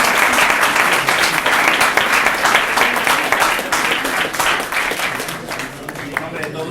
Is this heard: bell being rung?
no